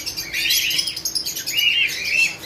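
Pigeons and other caged birds at a Lahore bird market chirp and tweet steadily in a dense, bright chorus, with several clear, higher calls standing out near the end against a constant background din.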